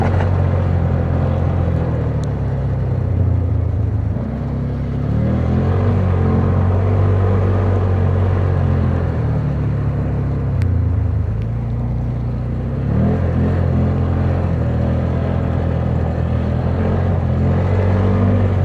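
An off-road vehicle driven fast on wooded trails makes a loud, continuous engine rumble throughout, shifting pitch as it revs and eases, with no talk over it.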